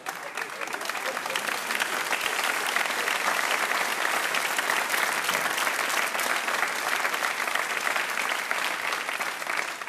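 Sustained applause from a studio audience at a live satirical comedy show, dense steady clapping throughout, fairly loud and continuous with no pause.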